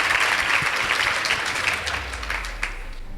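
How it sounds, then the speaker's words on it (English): An audience at a secondary-school debate competition claps steadily for the Weru Secondary School team after the results are read. The applause is dense and close, then thins slightly toward the end, with no talk over it. "Please give them a round of applause"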